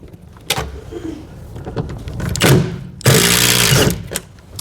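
A Milwaukee power tool driving out canopy bolts on a BYD Shark hybrid ute, loud close whirring bursts of the motor with a long sustained run near the end, no talking.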